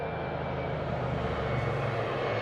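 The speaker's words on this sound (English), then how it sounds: "Love these little Embraer jets." An Embraer jet at Newcastle Airport roars steadily and loudly close by, its broad engine noise constant throughout with no talk over it.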